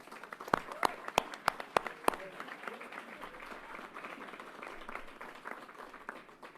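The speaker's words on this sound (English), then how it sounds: "Let's give her another round of applause." Audience applause at a political event: a handful of sharp, close claps ring out first, then settle into steady, fairly quiet clapping from the crowd.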